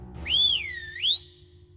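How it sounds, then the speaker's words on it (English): A single shrill whistle, used as a signal to summon an army of warriors, rises, dips and rises again in one long tone that lasts about a second. It sounds loud and close, with only a low background hum. "gave the shrill whistle that summoned his warriors"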